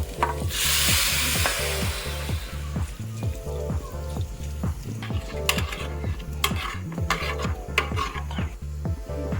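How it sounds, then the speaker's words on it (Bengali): Chicken stock mixed with food colouring and salt is poured into a pot of rice on the stove and stirred, giving a steady wet sizzle and rhythmic scraping that runs the whole time, with a brief splashing rush near the start. "এই জলটা আমি এর মধ্যে পুরোটা দিয়ে দিচ্ছি।"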